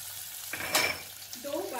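Chopped onion and finely cut green chillies hitting a hot pan, a sudden sizzle bursting up close, followed by a stirring scrape, brief and moderately loud.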